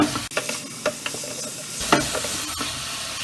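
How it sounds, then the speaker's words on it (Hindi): Onion and capsicum sizzle loudly in a hot pan as Ching's Hakka noodle masala is stirred through them for Indo-Chinese chilli arbi, with scraping stirs and crackling oil close up throughout. "इसको भी अच्छे से मिक्स करेंगे और तकरीबन 1 मिनट तक इसे पकाएंगे।"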